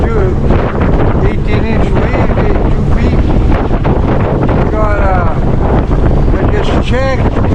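Strong wind roars and buffets across the microphone on a sailboat motoring into a 5-knot headwind, loud and constant, with water noise beneath and voices faintly mixed in.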